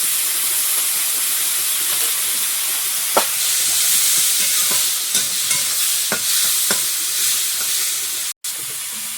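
Shelled shrimp frying in a pan, a loud continuous sizzle and hiss with scattered scraping stirs and a brief dropout near the end, no talking.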